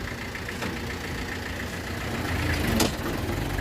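A Mahindra B-275 four-cylinder tractor engine idles and rumbles steadily close by, swelling slightly louder toward the end with a brief sharp knock.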